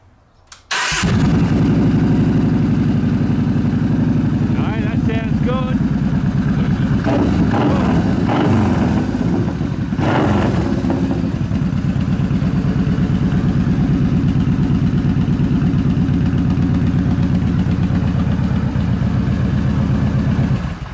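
A motorcycle or car engine turns over and starts, then settles into a loud, steady close-up idle that runs unbroken to the end.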